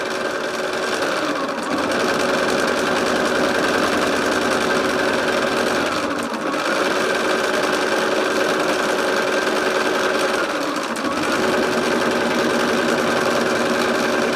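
A home embroidery machine stitching a line, a fast steady mechanical buzz and clatter of the needle running continuously, with two brief pauses where the motor slows before resuming, close and fairly loud.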